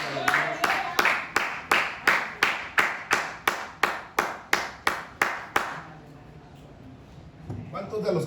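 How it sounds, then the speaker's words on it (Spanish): A church congregation claps in a steady, even rhythm, about two dozen loud sharp beats in unison, then the clapping stops and gives way to quieter room sound and faint voices. "Denle un fuerte aplauso a la gloria."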